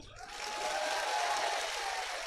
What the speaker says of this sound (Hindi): और आप लोग जोरदार तालियां बजाओ